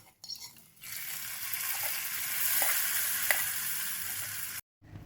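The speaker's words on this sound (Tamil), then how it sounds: "இந்த தாளிப்பை நம்ம பொரியலில் சேர்த்துக்கலாம்." Coconut tempering for Kerala erissery sizzles and crackles steadily in hot oil as it is stirred in, a loud, close frying hiss with a few sharp pops, stopping abruptly near the end.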